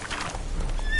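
Roach the horse from the video game The Witcher 3 galloping, a short snatch of hoofbeats ending in a high whinnying neigh, fairly close and loud.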